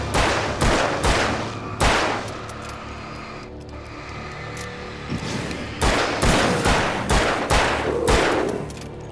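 Rapid volleys of gunshots in Alan Wake, close and loud, fired in two clusters of several sharp cracks each with a quieter pause between them.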